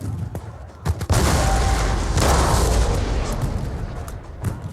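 Cannon volley from a Napoleonic-era battle in a tactics game, a dense rolling roar of massed artillery fire after a couple of sharp reports, sustained and loud for several seconds.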